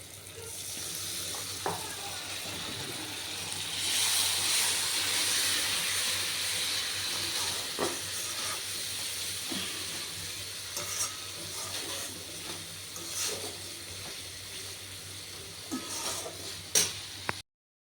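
Spices frying in a pan with a little water added, giving a steady broadband sizzle and hiss with occasional scrape and clink of stirring, close and continuous throughout.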